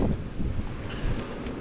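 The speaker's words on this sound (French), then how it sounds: "Le vent s'est levé, on touche 17 nœuds à peu près." Wind of about 17 knots at sea buffets the microphone in a steady, rough roar, with the wash of waves beneath it and no voices.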